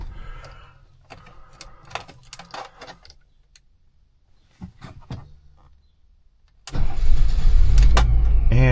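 A 1980 BMW 528i is brought to life, first with a series of clicks and mechanical ticks and whirs during the attempt, then the engine catches and settles into a loud, steady idle.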